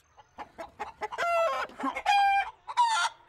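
Cartoon chickens on a farm cluck in quick, close bursts, then break into loud, drawn-out rooster-like crows, all bright and animated with no talking.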